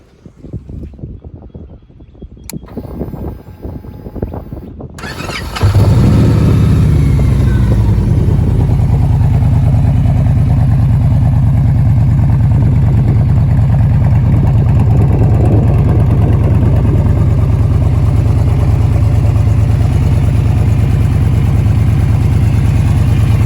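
A 2011 Victory Cross Roads motorcycle engine cranks over, then catches and settles into a loud, steady, deep idle that rumbles on close by with no talk.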